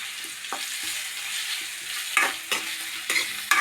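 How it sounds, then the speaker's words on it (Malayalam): A small piece of ginger with green chillies sautéing in a pan for chicken kurma: a steady soft sizzle with a few brief scraping stir strokes, moderately close and fairly quiet. "ഒരു കഷ്ണം ഇഞ്ചി, നമുക്ക് വാട്ടി കിട്ടണം."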